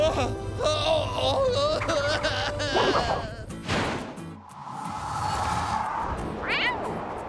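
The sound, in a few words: kitten meowing in a cartoon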